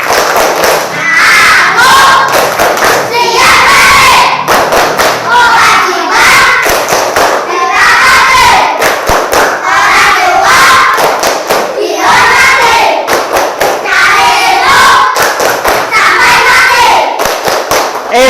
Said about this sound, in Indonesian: Oke, sekarang tepuk balik.